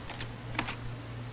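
Keys tapped on a computer keyboard while entering an IP address during network configuration, a quick light run of clicks with a couple of sharper strokes, close and fairly quiet over a steady low hum.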